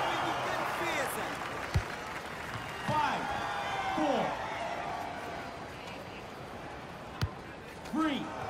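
Stadium crowd in the EA FC 24 football video game, Volta mode with Manchester City against RB Leipzig, a steady roaring mass of noise with scattered cheers and swells. Commentary voices talk over it, and a few sharp thumps stand out.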